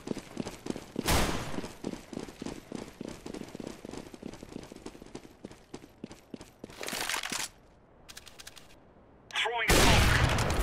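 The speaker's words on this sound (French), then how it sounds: "je suis en train de tirer" Rapid gunfire from Counter-Strike: Global Offensive in competitive mode, with dense bursts of shots through the first seven seconds, then sharper isolated blasts, heard under faint voice chat.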